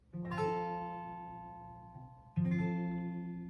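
Two guitar chords strummed one after another, each ringing and slowly fading, the second struck brighter; no talking.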